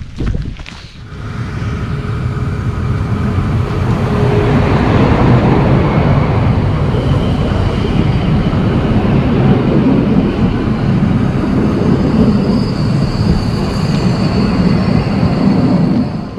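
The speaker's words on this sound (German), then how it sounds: "Haben wir gerade noch den Zug gesehen, der hier fahrplanmäßig verkehrt." A scheduled train passes on a line through a foggy, rainy countryside drinking-water protection area, a steady loud rumble and rushing roar sustained for about sixteen seconds with no talk.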